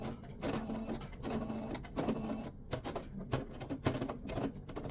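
Sewing machine stitching a curved waistband through thick layers of fabric, running in short uneven bursts with rapid ticking, stopping and restarting, fairly faint and close.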